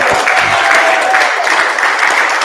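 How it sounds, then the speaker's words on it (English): Loud, dense applause from a crowd, steady clapping that fills the whole stretch without letting up. "Can we please give them a big round of applause?"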